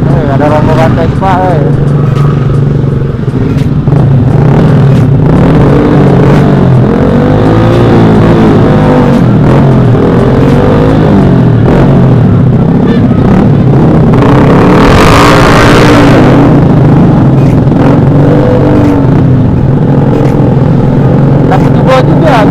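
A group of Vespa scooters with loud aftermarket exhausts revving in a busy crowd, a continuous heavy engine drone with repeated throttle blips and one sharp rising rev near the end, voices audible beneath.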